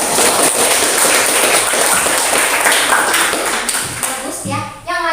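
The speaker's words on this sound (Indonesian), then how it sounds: "Kita beri tepuk tangan dulu." Classroom applause for students' test scores: a burst of many hands clapping loudly and close, tapering off near the end as a voice starts to speak.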